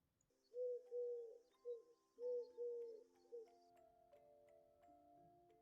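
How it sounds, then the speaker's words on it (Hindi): A pigeon coos softly several times in short, rounded bursts, then fades, with faint sustained tones lingering in the background. "कबूतर ने धीरे से आवाज की।"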